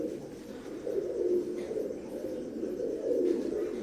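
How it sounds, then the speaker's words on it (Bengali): Imported Teddy pigeons, a breeding pair, give soft low rolling coos in two swelling bouts, close and steady with a quiet room background and no talking. "এখন স্ক্রিনে যে কবুতর জোড়া দেখতে পাচ্ছেন"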